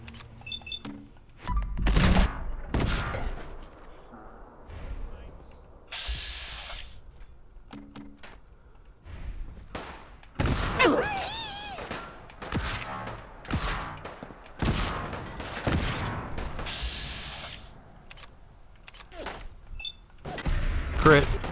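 Gunfire in Fallout 4 with the Fallout London mod, a headshot among several sharp, loud shots and thuds scattered through the stretch, with talk in between.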